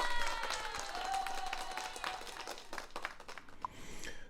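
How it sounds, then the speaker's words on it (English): A handful of people clap for Brian during a live BBQ talk show, a soft, thin patter of hands with a faint whistle, fading unevenly toward the end. "let's give Brian a round of applause"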